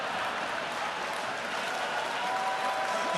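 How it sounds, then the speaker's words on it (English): An audience at a Southern Baptist Convention session applauds, a steady, fairly loud wash of clapping from a large hall crowd that holds evenly for a few seconds. "I appreciate the applause"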